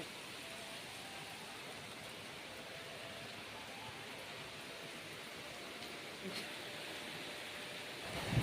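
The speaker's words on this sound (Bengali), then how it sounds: "তো এবার দেখো কেমন বৃষ্টি পড়ছে" Heavy rain falls in a steady, even wash of hiss that stays constant from start to end, with a small knock near the finish.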